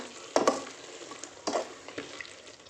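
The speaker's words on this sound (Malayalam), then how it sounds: "അതും കൂടെ ഒന്ന് മിക്സ് ആക്കി എടുക്കാം" A spoon stirs curry leaves into chicken varattu made with coconut milk in a pan. Steady frying sizzle runs throughout, with scraping strokes that come back at an uneven rhythm.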